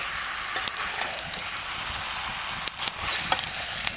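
Chicken roast with packet spices frying in a wok, a steady, close, continuous sizzle with occasional soft stirring scrapes and no talking.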